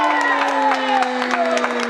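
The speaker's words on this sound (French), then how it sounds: "On entend les applaudissements du public." Spectators applaud and cheer at an indoor women's futsal match between Toulon Elite and Hyères FC. The crowd noise is dense and steady, with scattered sharp claps over a sustained tone running underneath.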